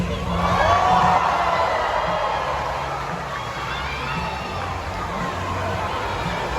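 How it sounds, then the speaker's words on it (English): An aquarium dolphin show audience in Atlanta cheers and claps in a loud, continuous crowd roar that peaks early and then settles into a steady wash of applause and chatter. "How about another round of applause for our incredible team of trainers?"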